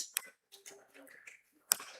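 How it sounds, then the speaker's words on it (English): Two sharp finger snaps about a second and a half apart keep a slow beat for a sung church service. Quiet talk and soft sounds fill the gap between them. "I'll snap, but you can also, clap if you can't snap. So it's sounding like this."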